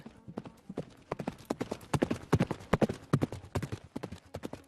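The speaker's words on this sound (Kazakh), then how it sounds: "Жарты төстік атына мініп шауып кетеді." Horse hooves galloping in a rapid, steady clip-clop rhythm, close and fairly loud throughout, with no talking over it.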